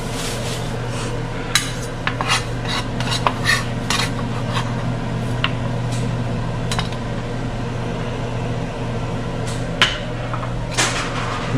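A knife cuts food on a cutting board during tomato and egg preparation, giving sharp, irregular taps and knocks spread across the clip. A steady low kitchen hum sits underneath, and no one speaks.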